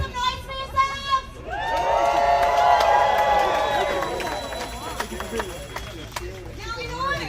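A protest crowd in North Texas cheers and whoops loudly for several seconds, a broad roar that rises after a speaker's voice and then fades back under continued talking.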